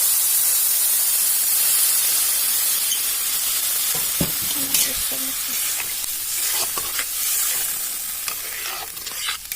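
A steady sizzle and hiss from a frying pan while cooking paneer, with scraping stirs and soft clinks partway through.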